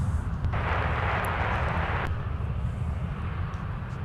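An Air Shuttle airliner, flight 4056, takes off from runway 17 at Minneapolis–St. Paul airport. Its engines give a steady, distant low roar, and a brief hissing surge rises and fades within the first two seconds.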